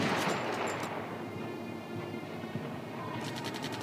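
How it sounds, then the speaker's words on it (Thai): Video game gunfire, with a cluster of sharp shots at the start and another rapid burst near the end, both fairly faint against a low rumbling background. "เนี่ยมันยิง เนี่ยมันยิง"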